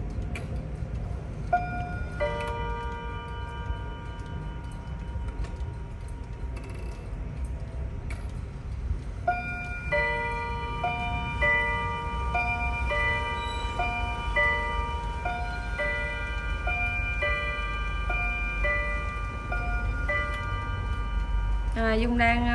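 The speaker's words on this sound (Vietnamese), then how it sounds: "test giờ cho anh em mình nghe cái phần điểm giờ" An antique European wall clock with two melodies, a Henry clock from France in a thick wooden case, strikes the hour with a long chiming tune of clear bell tones over steady ticking.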